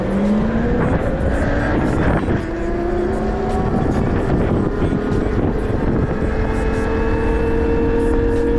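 A WindOne RM7 electric motorbike accelerates hard in a race against another electric bike, its motor whine rising steadily in pitch under loud, continuous wind buffeting close to the microphone.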